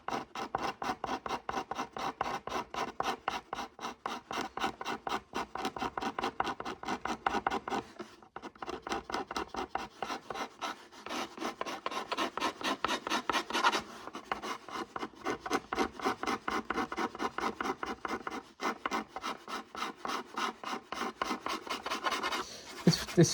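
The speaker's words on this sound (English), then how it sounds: "I've just sharpened up my scraper, but it does tend to rip up a little bit." Freshly sharpened hand scraper rasping steadily across Spanish cedar in quick repeated strokes, close and continuous with a brief pause partway through, no talking.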